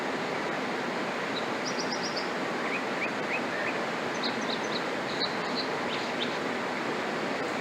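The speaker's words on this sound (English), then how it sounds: "Those are real birds, by the way." Small birds chirp and trill in short scattered bursts near Gold Creek, heard over a steady broadband rush of flowing water that fills the whole scene.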